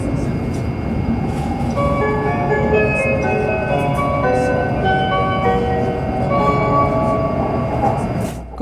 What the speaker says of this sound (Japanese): このチャイムが流れるということは、今乗っているのは E7 系ですね。